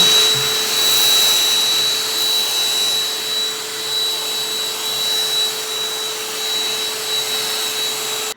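A BLACK+DECKER Dustbuster handheld vacuum runs steadily on a wooden surface, giving a loud, even motor whine with a high steady tone, starting at once and holding through the whole stretch without talk.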